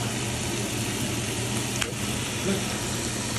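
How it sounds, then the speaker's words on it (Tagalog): Pork and aromatics sautéing in a pan for a Filipino pork-and-tomato dish, a steady broadband sizzle that stays even throughout, with faint scraping from stirring and some background voice. "Habang ginigisa pala natin siya"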